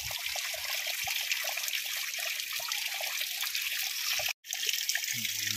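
Water from a borewell gushes out nonstop in a steady, loud splashing stream, briefly cut off once near the end before resuming, with no voices.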